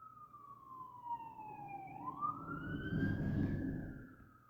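An ambulance siren passing by outside, its wail falling and then rising again as it moves past, fairly close and steady over road rumble.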